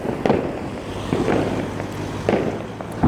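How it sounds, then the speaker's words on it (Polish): Distant New Year 2020 fireworks pop and boom in scattered bursts, four or five blasts under steady wind noise, with no voices. "Jest 2020, tam są fajerwery."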